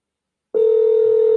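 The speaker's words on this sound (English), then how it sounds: "Dang, why is it ringing so many times?" A telephone ring tone on an outgoing call sounds after a brief silence, a loud, steady, near tone holding without a break.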